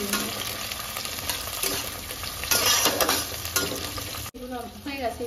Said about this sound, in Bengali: এবার এটার মধ্যে এই কাজু কিশমিশগুলো ভিজিয়ে রেখেছিলাম সেটা দিয়ে দেবো, দিয়ে কিছুটা একদম হালকা ভেজে নেবো